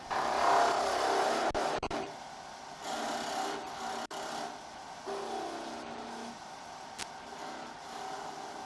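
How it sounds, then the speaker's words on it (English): Wood lathe running while cutting a small finial, a close scraping rasp of the tool on spinning wood in several uneven passes, broken by short pauses and a sharp tick. "Turn the lathe back on."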